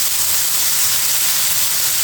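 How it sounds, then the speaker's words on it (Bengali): Prawns frying with potatoes in a pan give off a dense, even hiss of sizzling oil, close and steady throughout with no voices. "চিংড়ি মাছটা আলুর সাথে আমি সুন্দর করে ভেজে নেব।"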